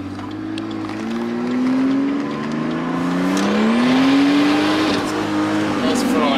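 A street car revs hard during a burnout in Australia, its engine note climbing and wavering steadily over several seconds with a gritty roar of spinning tires, loud and close.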